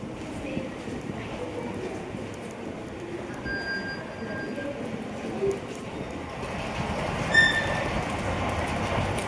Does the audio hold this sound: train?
yes